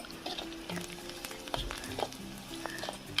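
Onions and shrimp masala frying in a pan over a wood-fired village stove, a soft steady sizzle with faint scraping and clinks from stirring, quiet and close, with no voices.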